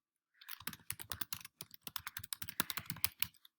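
Close, quick typing on a computer keyboard, with bursts of crisp key clicks in an irregular rhythm and a short pause midway, heard alone in a quiet room.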